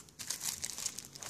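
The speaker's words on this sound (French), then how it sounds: "on va finir de déballer le beau display" Plastic wrap being peeled off a Pokémon XY Étincelles booster display box: a close, steady crinkling and crackling of film lasting just over a second.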